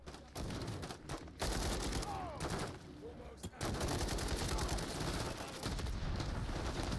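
Rapid bursts of automatic gunfire from the video game Call of Duty MW3, loud volleys broken by brief pauses, with no voices over them.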